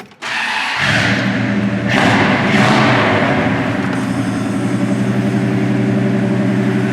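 A restored 1971 Plymouth Duster Twister V8 cranks briefly and catches within about a second. It then settles into a loud, steady, slightly lumpy idle close to the mic, with a few early revs swelling before evening out.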